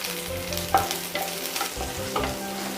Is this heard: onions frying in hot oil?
yes